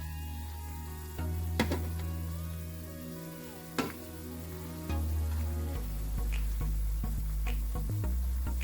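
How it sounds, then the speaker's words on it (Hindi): Cauliflower pieces for crispy gobi Manchurian fry in hot oil, giving a steady close sizzle with a few sharp ticks and clatters as the pieces are turned. No one speaks. "देखिए, फ्राई हो रही है"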